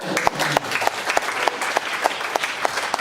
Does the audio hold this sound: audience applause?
yes